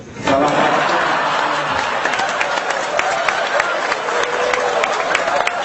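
An audience at a religious study gathering claps together, a broad steady wash of applause with sharp individual claps poking through, continuing at an even level after a quick start.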